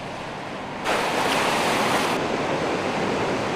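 Strong southerly wind and surf on a white-sand Southern Ocean beach in Cape Arid National Park, a broad rushing roar that swells up suddenly after a quieter start and stays loud, with wind buffeting the microphone.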